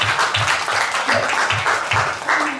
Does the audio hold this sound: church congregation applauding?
yes